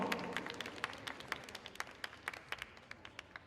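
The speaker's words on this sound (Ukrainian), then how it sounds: "бурхливі оплески" Applause at a gymnastics tournament's opening and awards ceremony, a dense patter of claps with sharper individual claps standing out, sustained through the clip and tapering slightly, with no voices.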